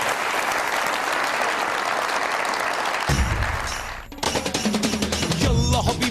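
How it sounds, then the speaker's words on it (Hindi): Studio audience applause on the comedy show Mazaq Raat, loud, dense clapping for about three seconds that cuts off abruptly as music starts. "ठीक है, बहुत सारी तालियां मिश्रा भाई के लिए।"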